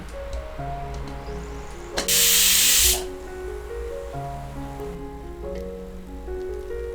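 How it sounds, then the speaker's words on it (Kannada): A pressure cooker cooking methi pulao lets out one loud, sharp burst of hissing steam lasting about a second, over a soft, steady musical background. "ಎರಡು ವಿಷಲ್ ಕುದಿಸಿ"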